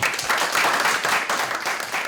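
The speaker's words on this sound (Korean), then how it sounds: "그간 함께 고생한 서로에 대한 격려의 박수다." A room full of people applauds, steady dense clapping throughout, close and fairly loud, without distinct voices.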